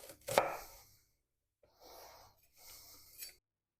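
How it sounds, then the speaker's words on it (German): A knife chops peeled onions into half-moons, giving one sharp, loud cut followed by two softer bursts of slicing, with quiet gaps between them. "Zuerst werden wir Zwiebeln schälen und in Ringe oder beziehungsweise Halbmonde schneiden."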